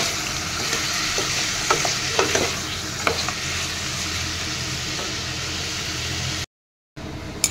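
Taro and chicken curry sizzling in a pan while turmeric and salt are stirred in, a continuous frying hiss broken by scraping spoon strokes and a brief dropout near the end.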